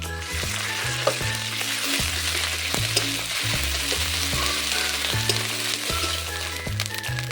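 Ginger paste frying with reddened onions and dried red chillies in a pan, a loud, constant sizzle with a steady stirring rhythm throughout, no voices.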